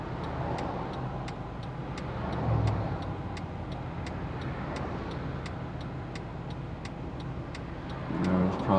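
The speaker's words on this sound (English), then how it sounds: "that traffic is just coming on" Steady road traffic rumbles at a city intersection, with cars passing as the light changes. A regular ticking, likely a turn signal, runs throughout, and engine noise swells around the third and eighth seconds.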